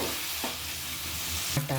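Tomato and turmeric stir-fried in a pan, a steady close sizzle with a few scraping stirs and light clinks of a spoon against the pan, especially near the end, without any talking.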